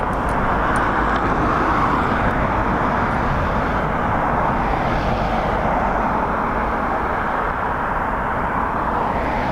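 A Ryanair jet lands on runway 28 left at Dublin Airport in gusty wind. Its engines roar steadily and loudly throughout, a broad continuous rumble with no voices.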